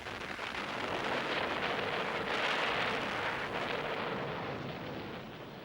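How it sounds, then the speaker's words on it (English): Japanese naval bombardment at very close range in WWII, heard as a sustained, dense roar of blasts and rumbling that swells and fades slowly, loud and continuous with no clear gaps. "Japanese naval bombardment at very close range causes enormous damage but does not break the deadlock on land"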